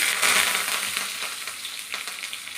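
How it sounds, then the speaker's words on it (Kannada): Mustard seeds, curry leaves and dried red chillies crackle and sizzle in about a tablespoon of hot oil in a small pan for chutney tempering, a dense, steady frying hiss close by with scattered pops. "ಇದಕ್ಕೆ ಒಗ್ಗರಣೆನ ಹಾಕೊತಾ ಇದ್ದೀನಿ"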